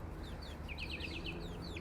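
Red Ranger chickens give a few soft, high chirping clucks, faint and close together, over a low steady background hum.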